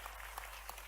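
Brief, steady applause from an audience at the Tansen centenary festival in Gwalior, a uniform wash of many clapping hands heard for under a second.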